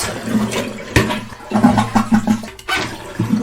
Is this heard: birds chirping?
no